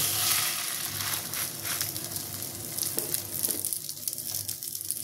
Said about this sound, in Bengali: সেদিকটা আমি দুটো করেই ভাজবো। দুটো করে হালকা করে কম আঁচে ভাজতে হবে একদম।